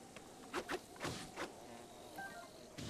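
Bees buzz in a Zelda video game, a faint insect whine with a few short, louder buzzing swells coming and going against a quiet background.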